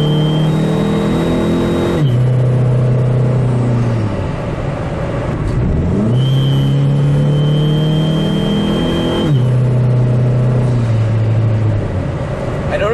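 A Chrysler PT Cruiser GT with a Mopar Stage 1 tune accelerating at wide open throttle. The loud engine note climbs steadily, drops sharply at each of three gear changes, then rises again, with no talk.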